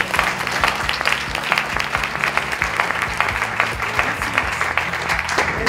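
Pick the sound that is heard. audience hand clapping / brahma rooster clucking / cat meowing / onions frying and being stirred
audience hand clapping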